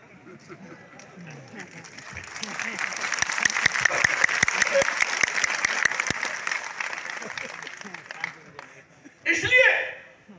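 A crowd at a Hindi political speech bursts into applause that swells into sustained, dense clapping for several seconds, then fades as a voice rises briefly at the end.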